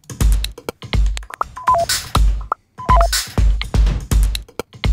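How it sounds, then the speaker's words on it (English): A quirky rhythmic loop built from electronic beeps, clicks and blips, with punchy low thumps driving a busy beat throughout. "Not too bad for a bunch of user interface sounds."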